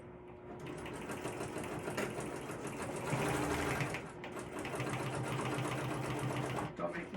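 Sewing machine stitching the seams of a crossbody bag, a steady mechanical whir running nearly continuously and close, with one brief pause partway through.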